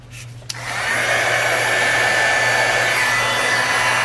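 A heat embossing tool switches on with a click and blows hot air in a steady, loud, close whoosh that holds unbroken to the end.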